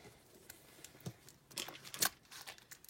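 Packaging of a Pokémon Sword and Shield Elite Trainer Box is torn and crinkled open, with soft scattered rustles, a few sharp rips, and a crisp snip near the end, all faint and close.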